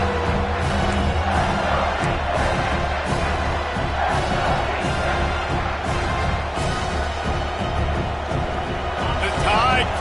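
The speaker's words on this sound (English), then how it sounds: "The Tide crowd rolling noise down onto Saban Field on third down." A stadium crowd at a college football game on Saban Field roars steadily on third down, a dense continuous wall of cheering that fills the whole clip with no pauses.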